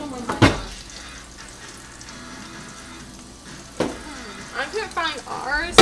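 Pork chops sizzle and fry in a pan, a steady soft crackle with a few louder clatters and scrapes as the meat is turned with tongs, talking heard over it.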